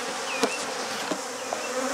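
A steady buzz of many honey bees around a hive fills the whole clip, a dense droning hum with a few individual bees flying close past.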